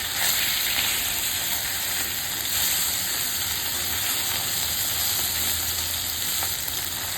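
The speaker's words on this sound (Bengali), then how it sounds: "ভালো করে উল্টে পাল্টে ভেজে নিচ্ছি।" Bata fish from a pond, coated and turned over in a pan, fry with a steady, dense sizzle and crackle that stays loud and close for the whole stretch, with no voices.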